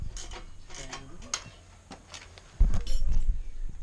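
An exhaust clamp is tightened on a Suzuki RV125 VanVan with a GPR Ghisa exhaust, giving close, quick ratcheting clicks, then a louder burst of metallic working noise in the final second.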